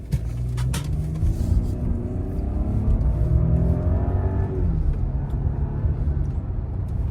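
A blacked-out Audi SQ8 accelerates hard on a two-lane road at night, its engine rumbling loud and close as the revs climb steadily and then ease off, with no talking.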